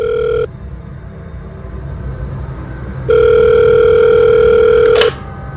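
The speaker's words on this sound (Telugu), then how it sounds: "ఫోన్ రింగ్ అవుతుంది" A telephone rings with a steady electronic tone, one short burst and then a longer two-second ring after a pause, loud and close over a low room rumble.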